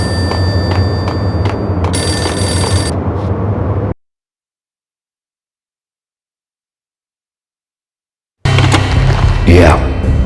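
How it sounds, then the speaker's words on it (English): A payphone rings in the Max Payne video game, a repeated electronic bell burst over ambient game noise and voices, then cutting to silence before game sound resumes. "payphone started to ring."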